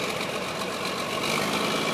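A John Deere 4430 tractor engine idles steadily with a rough, continuous diesel rumble, close and unbroken, with no talk over it.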